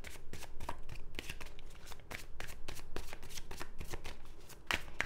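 Tarot cards shuffled by hand close up, a run of quick crisp riffling slaps and flutters in irregular bursts, fairly quiet and with no talk.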